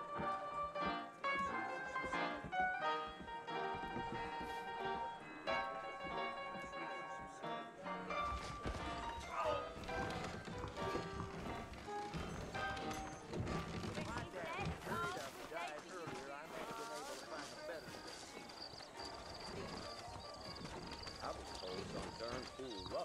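Horses clip-clop and move about in the video game Red Dead Redemption, hoofbeats mixed with music and game effects while characters speak throughout.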